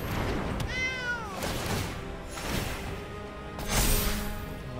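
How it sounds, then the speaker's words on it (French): A cat meows in the Magic The Gathering Arena video game as a card is played: a clear, bending meow near the start, set over steady game music and effects, with a louder whoosh-like burst toward the end. "Et puis le chat."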